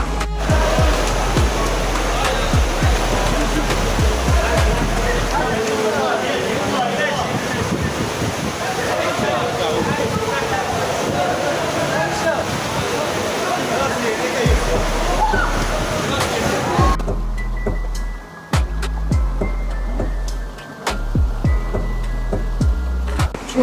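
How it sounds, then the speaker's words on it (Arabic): A steady roar of falling water from a waterfall in a Moroccan mountain valley fills most of the clip, then drops away to quieter rushing with brief low thumps. "شلالات"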